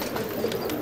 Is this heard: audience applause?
no